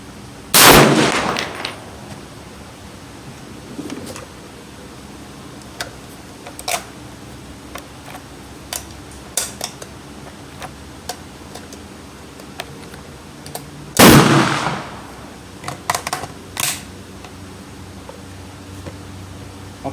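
Two loud M14 rifle shots fired at a range, sharp close blasts about thirteen seconds apart, with scattered lighter clicks and handling noises between them and no talking.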